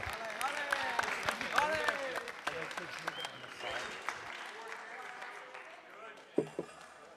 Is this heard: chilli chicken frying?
no